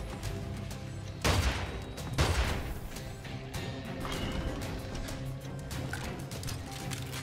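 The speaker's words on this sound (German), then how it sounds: "Wer schießt denn da?" Gunfire in the Immortal Redneck shooter, two sharp loud shots early on, then fainter scattered firing and game noise trailing off.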